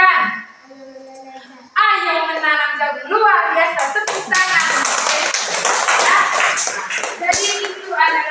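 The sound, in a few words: classroom clapping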